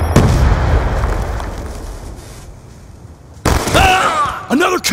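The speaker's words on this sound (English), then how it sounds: "Concussion out!" A concussion grenade detonating in Black Ops 2 multiplayer, a sharp loud blast at the start that decays into a long rumbling tail, followed by a gap and then voices talking.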